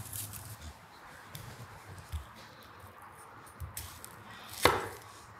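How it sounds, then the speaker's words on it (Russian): A chef's knife chops through an onion on a board, giving a few soft, scattered knocks against a quiet kitchen background, with one sharper, louder cut near the end. "Обратите внимание, как легко скользит лезвие по продукту."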